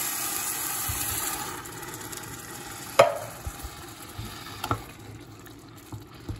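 Tomatoes tipped into a pan of roasting onions and garlic: steady sizzling and frying hiss, then a sharp clatter and a few scattered bumps and knocks of food and utensil in the pan.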